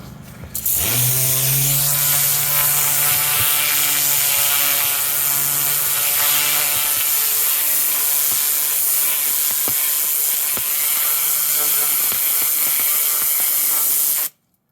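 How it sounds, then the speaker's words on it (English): A pressure washer with a turbo nozzle blasts dirt out of wooden decking joints, a loud, harsh, continuous roaring hiss that holds steady for about fourteen seconds and then cuts off abruptly. "I can actually blast all those joints out with just the turbo nozzle"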